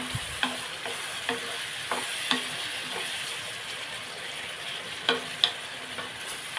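Tomato pieces tipped into a pan of frying pyendalam-and-tomato curry, giving a steady close sizzle broken by a few sharp clinks and scrapes of a stirring spoon, with no talking.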